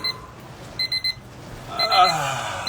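Short electronic beeps in quick clusters, a triple burst followed by a pair, fairly faint over background noise, then a louder rustling swell.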